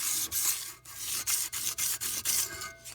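An engine gasket surface is sanded down by hand. Close, rhythmic rasping strokes come in a steady series of about ten passes, each separated by a short pause.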